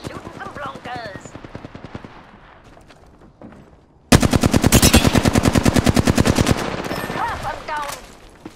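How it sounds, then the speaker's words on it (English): Apex Legends gunfire: quiet distant shots under a voice, then a loud, close burst of rapid automatic fire lasting a few seconds, with talk resuming over the tail. "Getting shot at."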